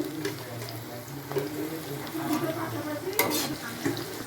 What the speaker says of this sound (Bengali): এবার একটু জিরে ফোড়ন দেবো।